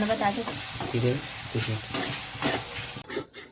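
Onions frying with coriander, ginger and green chili paste in a pan, a continuous close sizzle with stirring scrapes, ending in a few sharper clatters.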